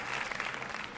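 A brief burst of clapping applause as a sound effect, a dense patter of many hands that fades out within a second.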